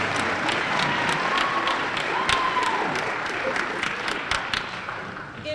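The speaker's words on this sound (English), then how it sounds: "Could I have a nice round of applause for my parent group that I could never do anything without?" Sustained applause from an audience at a high school event fills the room, many hands clapping steadily with some voices in the crowd, fading slightly toward the end.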